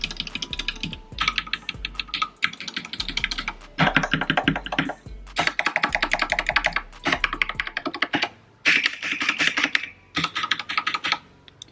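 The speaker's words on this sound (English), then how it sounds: "Right now, I'm gonna do the Ducky keyboard with red switches." Fast typing on a Ducky One 2 Mini keyboard with red switches, dense bursts of soft clacky keystrokes separated by short pauses, close and clear with no voices.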